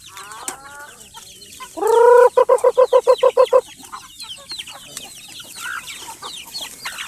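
Chickens with many chicks on a farm fed corn cluck and chatter close by, a hen's loud, rapid burst of rhythmic squawking clucks standing out over a background of constant peeping and softer calls.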